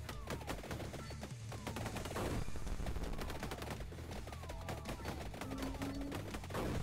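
Rapid rapid-fire bullet shots from the Wave Beam weapon in Vampire Survivors, a dense continuous stream of crackling game gunfire layered over steady background music and effects, loud throughout.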